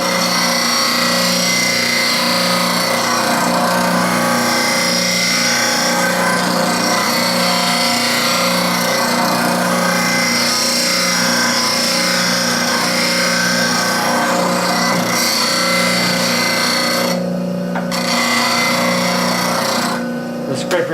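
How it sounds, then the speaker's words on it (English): A steel paint scraper being sharpened on a grinder, a steady loud whine and grinding hiss with a low motor hum running throughout, briefly cutting out near the end. "When I sharpen my scraper, I'm going to take it around until the sparks come over the top edge."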